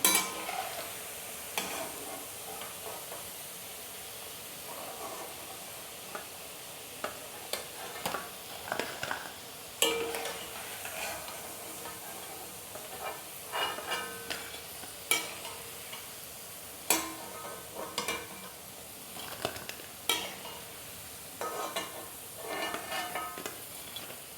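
Mixed vegetable pakoras frying in oil with a continuous soft sizzle, punctuated by scattered clinks and scrapes of a utensil against the pan, close by and without speech.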